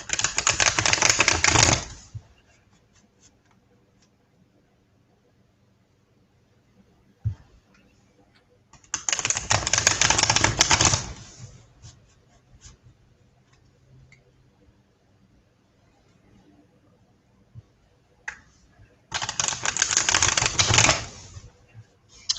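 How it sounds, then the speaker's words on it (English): Tarot cards being shuffled in three separate bursts, each a dense rapid riffling flutter lasting about two seconds, close and clear, separated by long quiet gaps with faint handling sounds. "I pick up the cards, I shuffle until it feels like I'm done, and then I lay them down."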